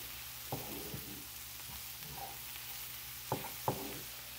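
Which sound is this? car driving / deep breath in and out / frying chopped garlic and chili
frying chopped garlic and chili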